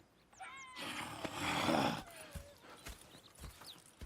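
Horses in the Red Dead Redemption 2 video game, with a snorting, whinnying burst in the middle and a few thudding hoof steps afterward, set against faint outdoor ambience and distant bird calls.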